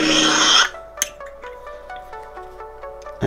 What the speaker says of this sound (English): When you want to put the blade plug back in, you just slide it back in like so.